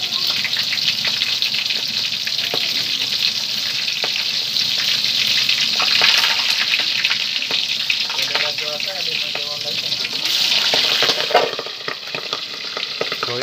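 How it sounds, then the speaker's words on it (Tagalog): Milkfish (bangus) crackles and sizzles steadily in hot oil in a home kitchen, a loud continuous fry with occasional sharper pops and a brief stir partway through. "para magpirito lang kayo ng bangus guys"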